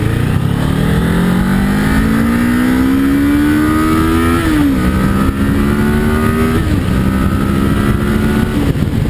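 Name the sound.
Kawasaki Ninja 650 motorcycle engine accelerating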